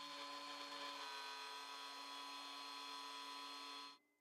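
A wood router carves the fittings for a pair of Damascus steel tanto knives, giving a steady, loud high-pitched whine that holds evenly for about four seconds before cutting off abruptly.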